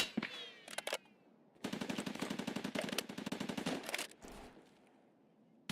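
Automatic gunfire in the video game Escape from Tarkov: a short burst, then a long sustained rapid-fire stream of shots, followed by a brief final burst, loud and close.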